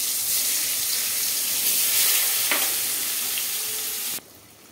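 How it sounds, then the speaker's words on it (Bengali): Eggplant frying in oil left over from frying fish, a steady broadband sizzle that holds for about four seconds and then drops abruptly to a faint hiss. "এই তেলে আমি বেগুন ভেজে তুলে নেব"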